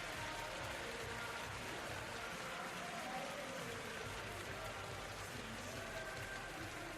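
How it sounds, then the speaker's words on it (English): Fans applauding in a Japanese B.League basketball arena, a faint, even patter of clapping that stays steady the whole way through with no talk over it. "Nice applause there for that gentleman right there"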